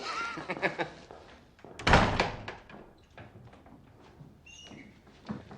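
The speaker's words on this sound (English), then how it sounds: "Shut the fucking door." A door being shut indoors in a house, a single solid thud at mid-clip, near and fairly loud, surrounded by quieter shuffling and handling noises.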